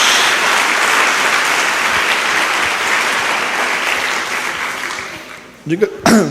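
A church congregation applauds during a sermon on the prophet Jonah, a loud sustained wash of many hands clapping that fades gradually before a preacher's voice cuts back in.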